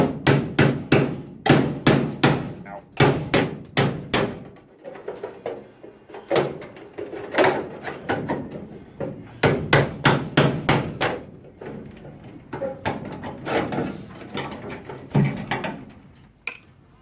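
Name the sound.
hammering a chisel on car body panel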